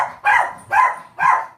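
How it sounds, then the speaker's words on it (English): A dog gives three loud, close barks in an even rhythm, each short and sharp with brief pauses between, and no other sounds. "So, as you can tell, we have a dog."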